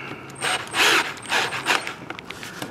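A ratchet tightens an 8mm bolt on a Chevrolet S-10 Blazer engine during a thermostat replacement, heard as a few short bursts of close metallic clicking and creaking separated by brief pauses.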